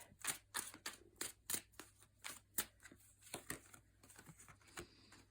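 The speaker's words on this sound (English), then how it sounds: "Oh, I'm going to shuffle these a little more." Tarot cards being shuffled by hand, giving a series of crisp riffling and snapping bursts in an irregular rhythm, close up and alone with no talking.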